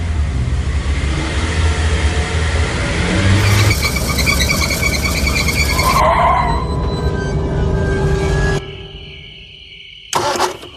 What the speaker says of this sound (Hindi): इसी चक्कर में मैंने अपनी गाड़ी की स्पीड बढ़ाई